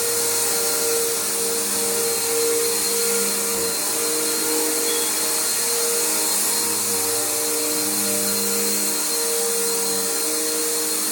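A Bissell Powerforce bagged upright vacuum cleaner runs steadily nearby, a loud continuous motor whine with a droning hum that barely changes for the whole stretch.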